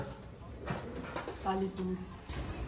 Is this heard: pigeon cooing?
yes